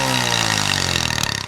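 Motorcycle engine revving with its exhaust baffle pulled out, giving a loud, raspy, buzzing exhaust note that holds steady and then pulses in quick rhythmic bursts as it winds down near the end.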